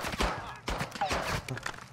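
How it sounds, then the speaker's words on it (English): Gunfire in Call of Duty MW2 DMZ: scattered sharp shots and short bursts cracking at moderate distance, irregularly spaced across the moment, mixed with faint movement and some voices. "Taking effective fire! My god, stop shooting us!"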